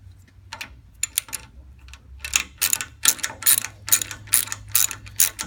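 A Bodyguard elliptical locking cap being unscrewed, heard as rapid ratcheting clicks that start sparse and build into a dense run of metallic ticks, close and fairly quiet.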